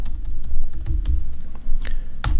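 Typing on a Mac computer keyboard, a quick run of close, distinct key clicks in an irregular rhythm over a low background hum.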